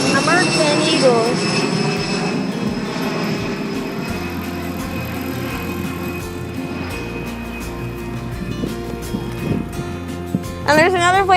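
An American Eagle airliner's jet engines roar steadily as it climbs away after takeoff at an airport, a sustained loud rumble with whining tones, while people talk over it throughout.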